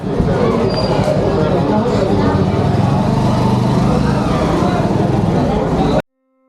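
Jammed Banaras street of cars and motorbikes, loud continuous engine roar with repeated horn toots and honks close by, cutting off abruptly near the end.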